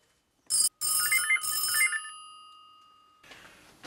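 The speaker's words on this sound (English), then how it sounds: "Pick up the phone." A telephone rings with loud, bright electronic trills in quick bursts, the last one ringing out and fading slowly before faint background noise returns.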